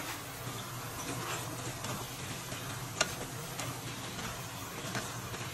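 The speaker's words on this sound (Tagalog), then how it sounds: "Haluin natin ng konti." Ampalaya with tofu and bean sprouts sizzles steadily in a pan while being stirred, with light scraping and clinks, including one sharp tap midway.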